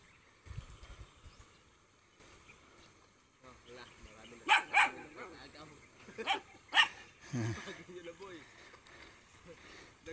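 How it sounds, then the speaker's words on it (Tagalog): A puppy yaps in short, sharp bursts, several loud yips clustered near each other, outdoors by water while people gather clams, with voices talking around the barks. "Ingay-ingay na tuta guys."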